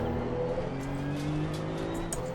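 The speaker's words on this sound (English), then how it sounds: "You do have to be a bit patient on the down changes because, like I said, it's quite a relatively low revving engine" A Porsche GT2 race car in Assetto Corsa Competizione with a relatively low-revving engine, redline around 6,000-6,500 rpm: a steady, fairly quiet engine drone with rising harmonic tones, heard alone without talk.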